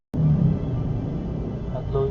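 A three-wheeled tricycle in Barangay Amaya, Cavite, rumbles past with a steady, close engine drone that starts abruptly and holds for a couple of seconds, with a voice talking over it.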